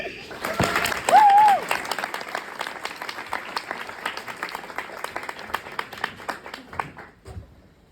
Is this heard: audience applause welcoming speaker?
yes